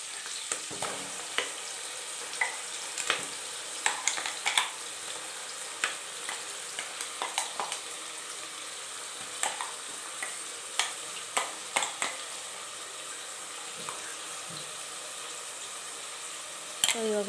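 Ground masala with onion fries on medium flame in a pan for mushroom biryani: a quiet continuous sizzle punctuated by frequent clicking, scraping stirs of a spoon against the pan, close and irregular.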